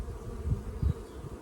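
Honeybees from a young colony buzz busily around the outside of their hive on a fine day, making a low, steady droning hum with a few louder swells as insects pass near.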